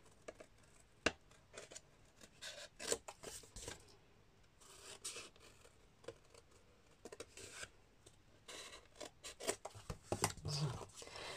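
Scissors snip through paper for a hanging notepad craft with a pen holder, a series of close, irregular cuts and rustles spread across the stretch, loud in scattered bursts against quiet room tone.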